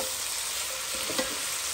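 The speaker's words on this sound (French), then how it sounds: "Je mélange les oignons avec ça dans le lapin et le lardon." Onions, rabbit and lardons frying in a pan give a steady, close sizzle with faint stirring scrapes, no voices present.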